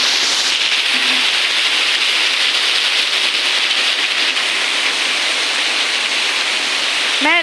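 Heavy rain pouring down hard, a loud, thick, unbroken roar of falling water close by, with a brief tonal sound right at the end.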